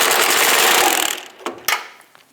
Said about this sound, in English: We're going to snug down our control arm bolts.